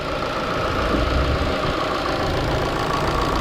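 A Ford Focus engine idles evenly and steadily up close, a continuous mechanical hum with a light ticking texture and no talking over it.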